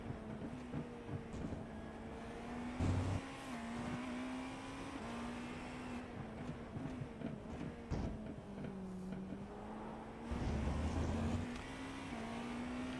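Porsche race car in a racing video game, its engine holding a steady droning tone that rises and falls with gear changes, plus a couple of louder bursts, fairly quiet overall with no talking.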